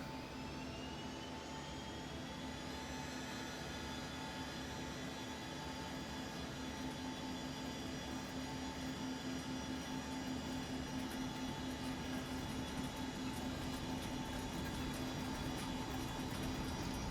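Twin jet engines of an Embraer ERJ airliner in X-Plane 11 spool up for takeoff, a steady loud roar with a rising whine and tonal hum that holds constant throughout.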